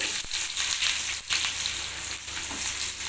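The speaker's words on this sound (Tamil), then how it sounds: "கடுகு பொடிஞ்சிருச்சு இப்போ வெங்காயம் போட்டுக்கலாம்" Chopped onions crackle and sizzle in hot oil with popped mustard seeds, a dense, close frying hiss with a few stirring knocks and no talking.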